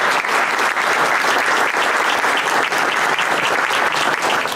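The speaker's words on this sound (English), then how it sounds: "Please give them a round of applause for organizing this forum for you this evening." Steady, dense applause from an evening audience at a candidate forum fills the whole stretch, an even wash of clapping with no voices over it.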